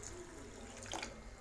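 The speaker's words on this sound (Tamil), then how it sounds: "இதில் ஒரு 1/2 கப் அளவுக்கு நம்ம இதில் தண்ணி சேர்த்துக்கலாம்" Half a cup of water is poured into a brinjal gravy cooking in a pan, a brief faint trickle and splash over low background hiss.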